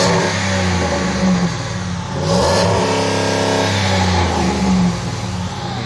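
A truck engine revs up and settles, its rising and falling harmonics steady and close with no talk, a brief rattle in the middle.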